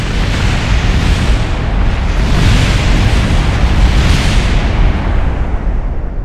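Rocket blowing up in Kerbal Space Program, a loud sustained broadband roar of explosion and rushing debris noise lasting several seconds, swelling and fading, with no talking.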